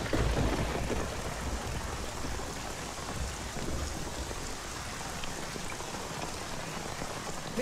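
Steady, close rain pours throughout a scene in a Hindi feature film, a dense even hiss with no voices over it.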